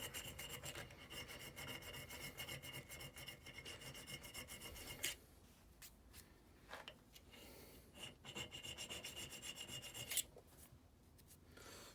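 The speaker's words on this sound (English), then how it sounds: "We're back to a bit of hand filing." Hand filing on brass during trammel making, close and quiet: rhythmic rasping strokes in steady bursts, pausing briefly midway before resuming, with no talk.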